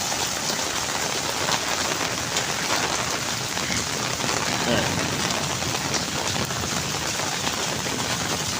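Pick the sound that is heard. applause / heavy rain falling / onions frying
heavy rain falling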